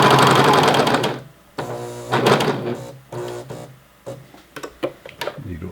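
A sewing machine stitches an elastic waistband in several bursts: a long run, then a pause and another run, then shorter stitching spurts with handling clicks between them.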